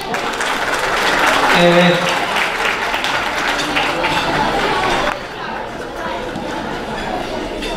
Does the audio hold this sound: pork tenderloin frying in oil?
no